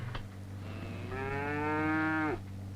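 A person imitates a cow mooing in a single long, drawn-out low moo, close and steady, over a constant low hum.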